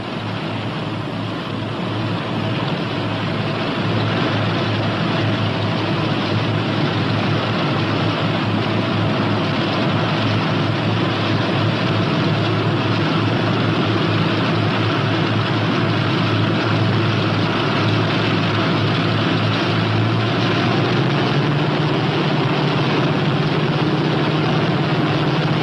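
Piston engines of a P-61 Black Widow fighter aircraft running steadily while taxiing, a continuous low droning rumble that holds for the whole stretch, close and loud, with a slight pitch rise near the end and no talk.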